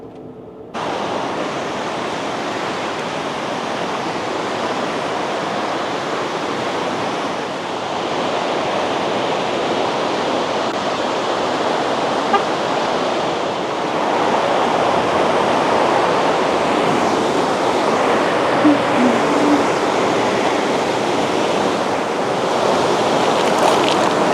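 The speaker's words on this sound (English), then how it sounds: "you can see a bunch of rapids like right next to the pull off" Rapids on a river in White River National Forest near Redstone, Colorado, rushing loudly and steadily next to a roadside pull-off, a dense unbroken roar of water that holds at the same level throughout with no voices.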